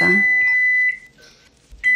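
A loud electronic beep rings out at the start, followed by a quiet pause and a second short beep at the end, like an appliance signaling it's done.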